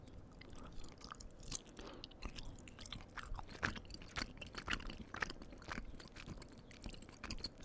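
Gummy bears chewed close to the mic, a quiet, continuous run of soft squishy, sticky mouth sounds with small wet clicks and no talking.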